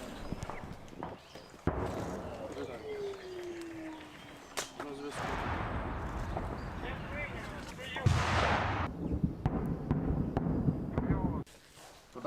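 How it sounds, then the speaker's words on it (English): Artillery fire during a wartime assault in Ukraine comes as several sharp, heavy bursts of varying loudness, some near and some distant, with people talking over much of it. "so artillery assault is going on"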